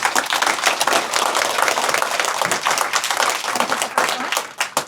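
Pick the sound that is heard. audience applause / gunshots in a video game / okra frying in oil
audience applause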